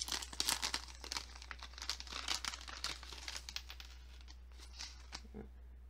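A small plastic bag holding paper cutouts and ribbons being handled, giving close, crisp crinkling and rustling in irregular bursts that fade to occasional rustles near the end.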